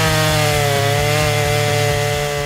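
A Greenworks 16-inch battery chainsaw cuts through wood with a loud, close, steady electric whine and buzzing hum, marked by a fast regular pulsing chatter from the chain, continuous throughout with no voices.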